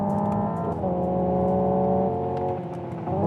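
A Hyundai Ioniq 5 N electric car accelerates hard in its e-shift mode, its loud synthetic engine note climbing in pitch, then dropping abruptly at simulated gear changes before rising again, heard close up.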